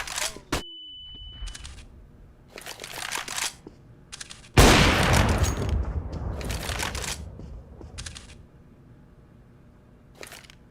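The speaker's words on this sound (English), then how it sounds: "Deploying flashbang." A flashbang grenade goes off in Counter-Strike: Global Offensive with a sudden loud burst, followed by a long ringing wash and scattered gunfire bursts before and after, with no voices.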